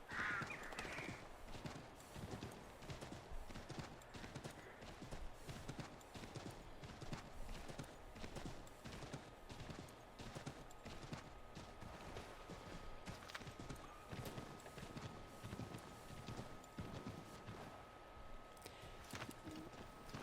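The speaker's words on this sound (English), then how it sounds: "It was my horse." A horse's hooves clip-clop steadily close by in Assassin's Creed III Remastered, an even walking rhythm of sharp hoof strikes with a brief whinny near the start and faint background ambience.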